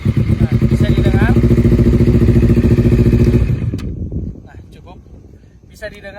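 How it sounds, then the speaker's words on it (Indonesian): A Honda CBR250RR motorcycle exhaust runs at a low idle, a steady loud throbbing rumble close by that fades into quieter background noise partway through. "Bisa didengar dari suara knalpot saya, idle-nya sangat rendah."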